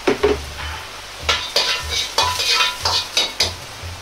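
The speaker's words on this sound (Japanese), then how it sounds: "鍋に小さじ1くらいの油を入れ、ニンニク、生姜、唐辛子を炒めます。" Garlic, ginger and chili stir-frying in a little oil in a pot, with a utensil scraping and stirring in a steady series of close, crisp strokes over a soft sizzle.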